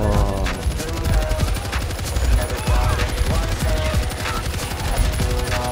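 Rapid, continuous machine gun fire in the zombie shooter World War Z during a Tokyo mission, loud dense bursts crackling steadily for several seconds amid other game effects.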